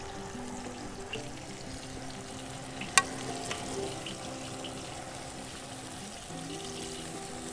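Battered uhu fish fries in hot oil for a honey walnut style dish, sizzling and bubbling steadily at a low level, with one sharp clink partway through and faint scraping or stirring noises.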